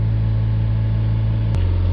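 Renault Trafic 1.6 diesel van engine held steady at high revs, a loud sustained drone that drops in pitch near the end as the revs ease off, with no speech.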